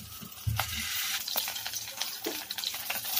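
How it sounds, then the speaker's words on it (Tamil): Marinated prawns frying in hot oil, a loud, close, continuous sizzle with occasional sharper pops and stirring clatter. "இப்போ அதை நம்ம எடுத்து அந்த ஆயிலில் போடுவோம்"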